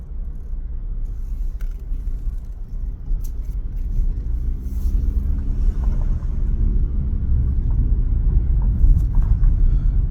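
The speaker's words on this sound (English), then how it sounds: "I'm going through traffic" Car driving through traffic, heard from inside as a steady low engine and road rumble that holds throughout and grows slightly louder toward the end, with no talking.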